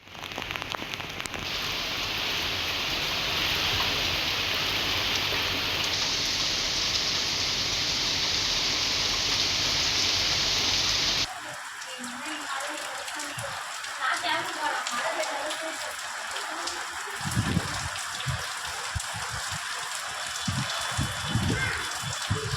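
Steady, loud rainfall over districts in Tamil Nadu, a dense hiss of rain on surfaces that runs unbroken for the first half, then shifts to a more uneven patter with scattered louder drops and splashes.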